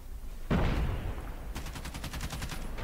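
Rapid gunfire from an LK24 rifle in an online shooter game, a sharp burst followed by a quick run of evenly spaced shots, loud and close, with no talking.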